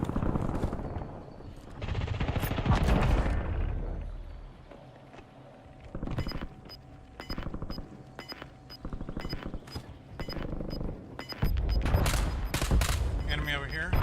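Video game firefight with rapid automatic gunfire bursts and sharp sniper shots, loud and close, mixed with footsteps and brief game voice callouts.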